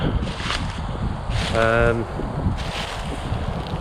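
Gusty high wind buffets the microphone outdoors at a mill, in rolling surges, with a brief tonal hum in the middle.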